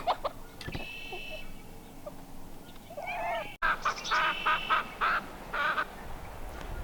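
Birds call outdoors in the snowy Wyoming mountains, with a few sharp chirps early, then a run of loud, excited squawking calls close by in repeated bursts over a quiet background.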